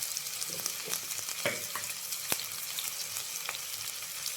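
Chopped onions frying in a pan for Kerala-style beef roast, a constant bright sizzle with brief stirring scrapes and a sharp utensil tap, close and without speech.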